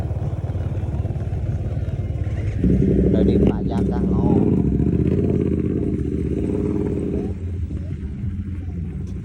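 Motorcycle and car traffic passing near a reservoir at Battambang, a steady close engine rumble that swells as a vehicle goes by, with a person talking over it.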